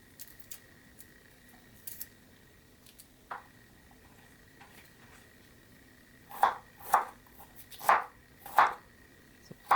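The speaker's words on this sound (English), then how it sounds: "this is how you cut the garlic." A kitchen knife cuts peeled garlic on a board during veg biryani prep, first a few faint scattered taps, then four loud, evenly spaced chops close by near the end, with no talking.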